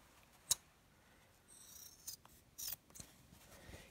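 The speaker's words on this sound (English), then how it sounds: "So we're just going to snip a little bit of that off." Scissors snip at the bulky fabric seams of a sewn face mask: one sharp close cut followed by several softer snips and rustling handling, quiet and with no talk.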